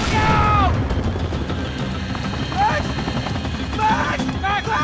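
Helicopter in the Max Payne 3 video game, a loud continuous rotor drone that fills the clip, with chirping game effects and bursts of gunfire layered on top.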